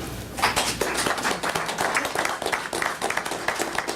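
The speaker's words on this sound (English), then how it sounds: "I think we should give all of them a big round of applause" A school board meeting audience gives faculty and staff a round of applause, steady crowd clapping that runs throughout without a break.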